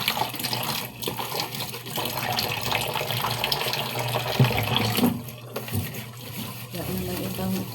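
A tap runs strongly into a sink while dishes are washed, giving a steady rush and splatter of water that continues throughout beneath a person talking.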